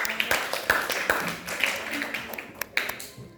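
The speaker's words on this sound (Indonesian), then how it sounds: "Tepuk tangan dulu untuk" Classroom applause after a student presentation, with scattered uneven hand claps, some sharp and close, as a modest ragged burst amid faint voices in the room.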